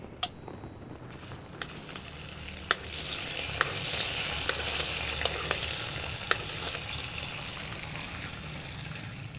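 A spoon stirs a hot tempering into bottle gourd yogurt chutney, the oil sizzling softly and steadily with a few sharp clinks of the spoon against the bowl.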